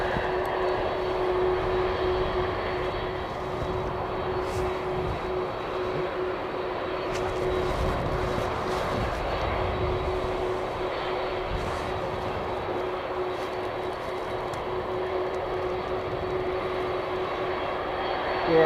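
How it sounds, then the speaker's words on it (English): A Bombardier aircraft approaching Christchurch International Airport in wet, windy weather makes a steady, continuous engine drone at moderate distance that holds for the whole stretch. "Looks like we've got a little bombardier coming in as well"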